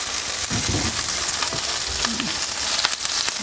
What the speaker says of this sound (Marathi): जिरंसुद्धा थोडंसं आपल्याला असं भाजून घ्यायचं आहे आणि लसूण घालूया